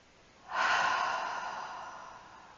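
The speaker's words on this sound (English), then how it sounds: "Exhale out through the mouth." A single slow breath pushed out through the mouth, a soft airy rush that swells quickly and then fades gradually over about two seconds, close and alone in a quiet room.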